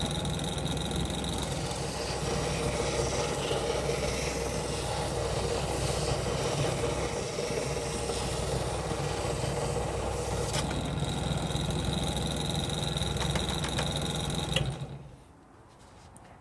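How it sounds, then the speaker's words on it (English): A belt grinder sands a fibreglass motorcycle speedo binnacle, a steady loud whirring grind with a thin high whine that runs unbroken and then cuts off sharply near the end. "see if the extra speed will give me a bit more performance out of that grinder"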